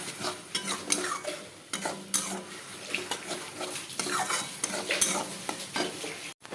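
Tomato paste stirred and frying in oil in a pan for katla fish kalia, a steady sizzle with repeated scraping stirs, close and fairly loud with no talking.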